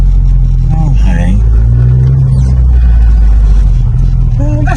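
A car engine revs and accelerates, its muffler note loud and close, while people talk over it.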